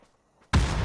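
A grenade goes off in the battle royale game PUBG on the Taego map: near silence, then a sudden heavy blast that stays loud and rumbling for the rest of the moment.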